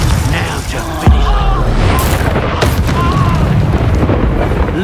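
Fiery Confringo spell blasts in Hogwarts Legacy, a dense roaring burst with a deep thump near the start and a sweeping whoosh later, loud and continuous beneath game effects.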